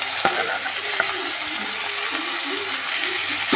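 Onions and tomatoes frying in a pan for fish curry, a steady loud sizzle close up with occasional scrapes of stirring and no talk.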